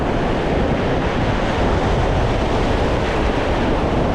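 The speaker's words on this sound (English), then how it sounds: "Careful for this wave. Wave's coming." Ocean waves breaking on a beach, a loud, continuous roar of surf and rushing water with wind buffeting the microphone.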